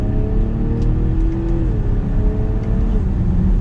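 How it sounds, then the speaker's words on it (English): A 2022 BMW X7 xDrive40i accelerates hard in third gear in manual mode, its engine droning loud and close from inside the cabin, the pitch climbing steadily before a brief shift-like dip. "We'll give it some gas in third gear."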